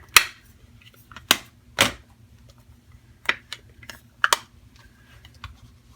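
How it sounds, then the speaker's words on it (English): Ink pads are rubbed and dabbed on a craft mat during scrapbook stamping, making a handful of sharp, close tapping and scuffing sounds at irregular intervals, spaced by near silence. "rub the ink pad on the craft mat a little bit. So I'm going to rub all three colors on here."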